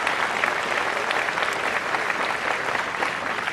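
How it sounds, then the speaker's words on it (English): A crowd at a graduation commencement ceremony claps in a dense, even round of applause that stays steady and fairly loud throughout, with no voices over it. "Please join me in a round of applause for the Student Government Board"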